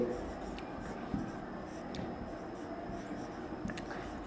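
Pen or chalk scratches out writing during a lesson on atomic radius in unit cells, in faint, irregular strokes with a few sharper taps, and a voice talks quietly underneath.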